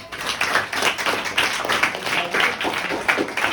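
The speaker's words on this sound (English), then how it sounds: "Clapping everyone." A classroom of students claps together for a classmate during a mathematics lesson on number systems, a fairly close burst of brisk, uneven hand claps lasting a few seconds.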